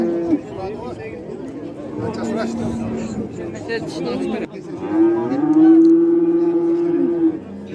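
Cattle low at a busy livestock market in Ozgon, with long, loud moos rising over a constant hum of crowd chatter and nearby voices.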